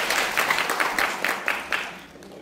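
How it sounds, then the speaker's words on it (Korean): Audience applause at a policy forum in the National Assembly on barefoot walking, given as a speaker is introduced: steady, dense clapping from a crowd of moderate size, holding at an even level for a couple of seconds before tapering slightly. "큰 박수로 해주십시오."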